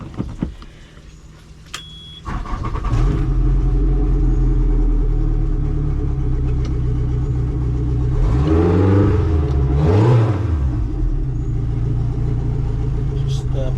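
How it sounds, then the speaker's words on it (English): Two outboard engines on a Glacier Bay 2670 Isle Runner boat crank and catch, settling into a steady low rumble, with a couple of rising revs partway through. "Going to start the engines up."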